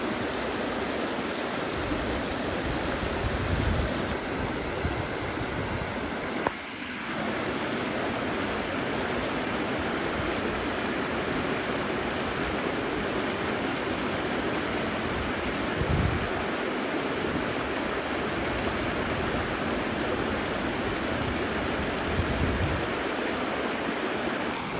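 A river stream flows steadily where buffalo have been let into the water to bathe, a constant rushing wash of water that stays loud and even throughout.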